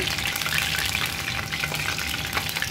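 Pieces of fish for chilli fish Manchurian fry in hot oil, giving a close, continuous crackling sizzle with no talking.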